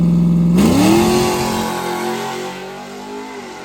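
A cam-only drag race car at Streetcar Takeover Charlotte launches with a loud engine rev that rises fast in pitch and then holds a strong steady roar as it pulls away, slowly fading with distance.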